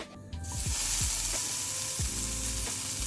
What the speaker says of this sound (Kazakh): Құйрық майды шыжғырып алдым.